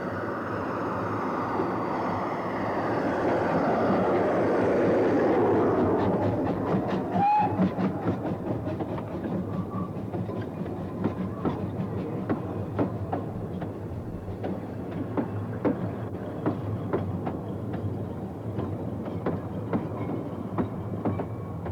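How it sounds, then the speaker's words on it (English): A Ffestiniog Railway train from Porthmadog rumbles into the platform and slows, wheels clicking rhythmically over rail joints, with a brief whistle partway through; steady and fairly close, no talking. "an up train arrives from Porthmadog"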